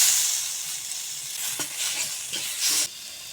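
Ginger-garlic paste, turmeric, chilli and cumin powders with chopped tomato frying in a pan, a soft hissing sizzle with a few scraping stirs near the end, no voices.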